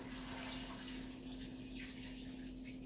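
Water pours steadily into a pot of vegetables for a curry broth, a continuous faint rushing with a low hum underneath.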